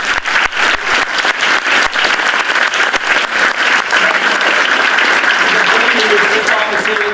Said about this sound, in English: If we give a quick round of applause to General Secretary.